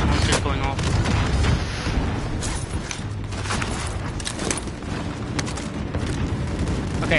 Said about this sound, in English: all I'm hearing is rocket launchers going off